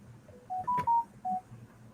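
A mobile phone sounds a short sequence of four or five electronic keypad-like beeps at varied pitches, with a faint click in the middle, against a quiet low hum.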